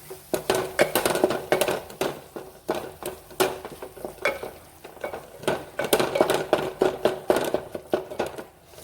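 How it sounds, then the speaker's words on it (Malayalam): Chicken being stirred in a pan, with repeated scraping, clinks and a faint sizzle in an uneven rhythm, close and moderately loud, with no talking. "അപ്പോൾ ഇതൊന്നും കൂടി ഇളക്കി കൊടുക്കാം."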